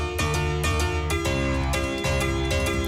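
Bright, plinky chords from an Abbey Road-sampled tack piano plug-in, modeled on a famous recording piano, with metal tacks on the hammers. Repeated rhythmic chord hits sound loud and close, with no speech over them.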